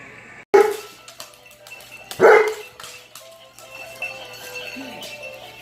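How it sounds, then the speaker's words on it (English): Dogs bark loudly nearby in two sharp bursts, followed by softer yips and whimpers against a quiet background. "These dogs aren't as funny as Augie when he catches one."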